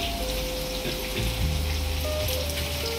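Garlic cloves and curry leaves sizzling in hot oil, a steady close crackling hiss that keeps on through the whole moment, with faint tonal background sounds.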